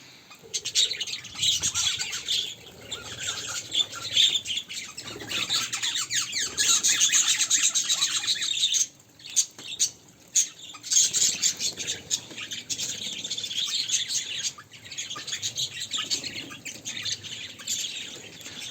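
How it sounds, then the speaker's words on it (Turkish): Dense, continuous rosella parrot calls with shrill squawks and chirps throughout, several birds close by in an outdoor aviary, with brief bursts of rustling and flapping. "Öyle olunca şu an 3 tane Rosella'mız var."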